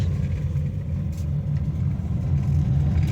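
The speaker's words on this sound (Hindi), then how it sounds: "ये देखिए हमारी गाड़ी बिल्कुल परफेक्टली चल रही है इस वक्त, किसी भी प्रकार की कोई नॉइज़ नहीं है।" A Honda Brio hatchback running smoothly after suspension and steering rack repair, its engine giving a steady low rumble that swells slightly toward the end, heard up close with no voices.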